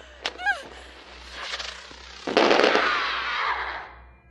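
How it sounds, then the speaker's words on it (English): Fireworks launched in the horror video game Crimson Snow, a sharp burst of crackling and whooshing blasts swelling loud after a couple of brief whistling pops, with faint talk early on. "I launched fireworks at her."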